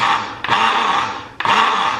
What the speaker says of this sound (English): it is pretty powerful, I will say, for a rechargeable blender